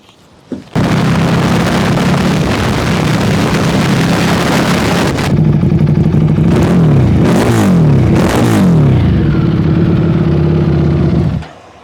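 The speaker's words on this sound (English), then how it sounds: "One of the most badass production motorcycle sounds I've ever heard." A 2025 Buell Super Cruiser motorcycle engine starts with a bark and idles loudly, then revs sharply several times in quick bursts before shutting off, close to the microphone.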